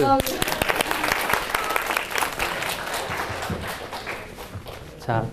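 An audience at a church youth Bible conference applauds with dense, steady clapping that carries on for several seconds before tapering off.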